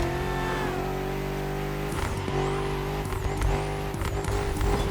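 BMW M5 CS sliding through an all-wheel drift with more than 900 horsepower, its engine revving loudly and steadily while tires squeal in repeated bursts close by.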